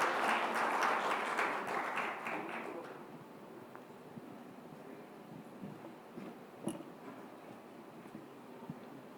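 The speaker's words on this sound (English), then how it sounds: "Let's give them a round of applause" Audience applause for the speakers at an Indian digital video advertising report event, loud and dense at first, then thinning and fading over the next few seconds into sparse, quieter claps and room noise.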